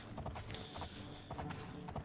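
In The Elder Scrolls IV: Oblivion, a horse gallops with brisk, evenly spaced hoofbeats, a short run of soft, rhythmic clip-clop with no talking.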